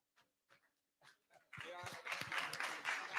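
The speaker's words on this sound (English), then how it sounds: "Let's give Mr. Rook another round of applause" After a few quiet voice sounds, applause erupts at a youth leadership conference, a sudden, fairly loud burst of clapping that swells and continues to the end.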